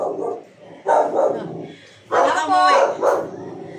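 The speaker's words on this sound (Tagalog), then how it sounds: "May aso." A dog barks several times in short bursts, nearby and fairly loud, with a pause between groups of barks.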